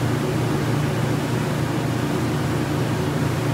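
A 15,000 BTU RV air conditioner fan roars steadily and loudly throughout, a broad constant whoosh with a low hum beneath, generators running faintly muffled underneath, no talking.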